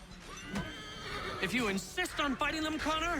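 A horse neighs and whinnies repeatedly in Assassin's Creed III, with hoof clip-clops and voices talking in the background.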